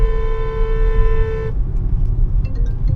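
A car horn blares in one long steady honk for about a second and a half on a road, then cuts off, leaving loud traffic and engine rumble with faint scattered sounds.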